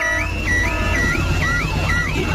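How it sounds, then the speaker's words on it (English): A loud, continuous electronic house alarm in a Peppa Pig cartoon wails in a looping up-and-down pattern, steady and close, with no voices over it. "Daddy Pig has set off the noisy house alarm"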